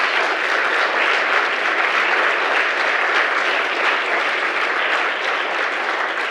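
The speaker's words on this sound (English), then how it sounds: "round of applause" A dense, steady round of audience applause at a closing session, many hands clapping continuously at even loudness for the whole stretch with no voices standing out.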